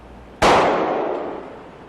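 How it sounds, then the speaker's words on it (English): A .40 S&W 155 grain jacketed hollow point bullet is fired into a block of ballistic gelatin, giving a single sharp, loud report that rings and decays slowly over about a second and a half, with no voices. "By shooting this jacketed hollow point bullet into a block of ballistic gelatin, we can show how the bullet expands"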